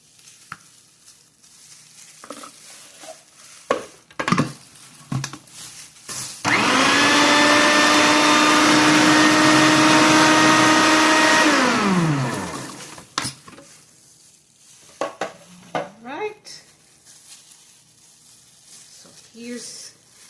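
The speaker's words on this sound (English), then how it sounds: "Put that in the food processor." A food processor whirs loudly for about six seconds chopping tomatoes and garlic for fresh garden salsa, then winds down; clicks, knocks and handling noises of the bowl and lid come before and after.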